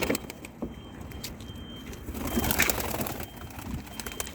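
Mardin tumbler pigeons released from a loft during young-bird flight training, with soft cooing and scattered wing flutters and clatter, fairly close, rising to a busier burst midway before settling.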